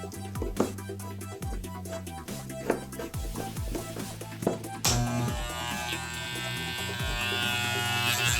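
A loud Wahl 5 Star electric hair clipper buzzes steadily throughout, with a few brief knocks early on and a brighter, harsher tone toward the end.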